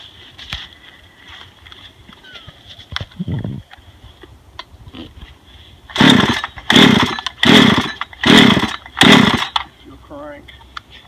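Husqvarna 372 bow chainsaw making a cut: after quiet stretches with scattered knocks, the saw fires up in five loud revving bursts separated by short dips.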